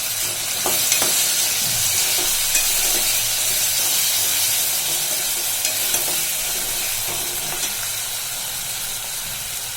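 Chopped onion and tomato frying together in a pan with crushed ginger and a few leaves for a black-eyed pea masala: loud, continuous close sizzling hiss with occasional light spatula scrapes, no voices.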